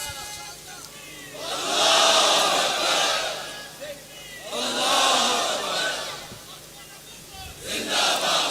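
A large crowd at a religious conference rally in Abbottabad chants slogans in loud swelling waves, each lasting a couple of seconds, heard from a distance with quieter pauses between the bursts.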